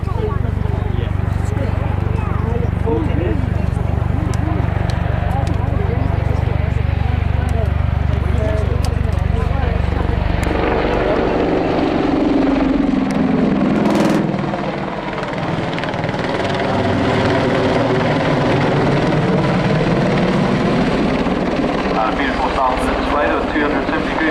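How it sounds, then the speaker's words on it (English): Army Air Corps attack helicopters from 662 Squadron flying at an air display, a loud continuous rotor and engine roar that shifts in pitch midway as they pass, with an announcer talking over it throughout. "please welcome from 662 Squadron Army Air Corps at Watersham, the Army Air Corps Attack Helicopter Display Teams"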